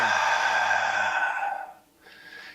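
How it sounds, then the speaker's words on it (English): A deep, long exhale of breath during a movement and balance exercise, a breathy airy rush close to the mic that fades out over a second and a half, followed by a brief quieter breath. "Really big inhale, fill up the lungs as much as you can. Exhale completely."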